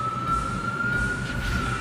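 Ambulance siren in Polish road traffic, a loud steady wailing tone sounding over rumbling vehicle noise, with the pitch rising near the end.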